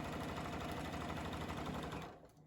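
Sewing machine running continuously while stitching a quilt row, a steady dense whirring hum with rapid rhythmic needle clatter that winds down near the end.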